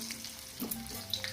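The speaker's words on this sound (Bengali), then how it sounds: "আলুগুলো একটু লাল করে ভেজে নেবো।" Potatoes frying in hot oil in a wok give a soft, steady sizzle with faint stirring, brief and fairly quiet, and nobody speaks.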